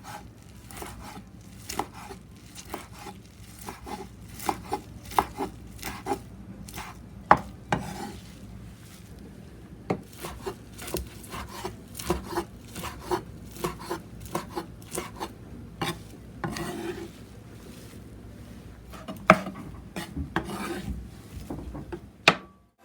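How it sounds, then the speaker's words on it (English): Knife chopping fish maw strips crosswise into small pieces on a cutting board, a long run of sharp, close taps in a fairly steady rhythm with occasional louder knocks. "Line up the strips and begin cutting crosswise into small pieces."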